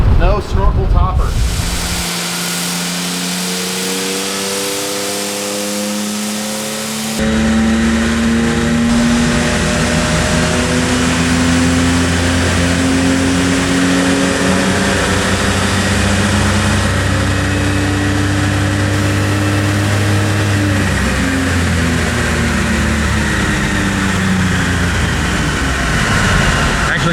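An off-road vehicle engine on a dyno with its snorkel topper removed revs hard and loud, climbing steadily in pitch toward about 6,200 RPM near redline and holding a sustained roar, with brief talk at the start.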